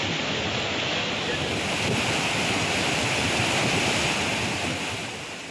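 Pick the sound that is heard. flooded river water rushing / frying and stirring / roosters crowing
flooded river water rushing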